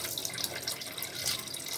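Running tap water rinsing a squid during cleaning, a steady close hiss of flowing water with a light splashing texture, continuous and without talk.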